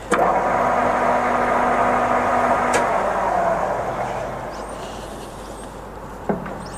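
A Goodway GW1640 lathe spins up in its high speed range, a loud steady machine whir with a tone that falls slightly as it settles, fading a little toward the end with a brief knock near the close.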